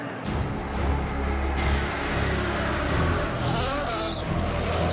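Race car engines at the Indianapolis 500 fire up and rev in a loud, dense roar with rising and falling engine pitch, layered over crowd and track noise for a few seconds.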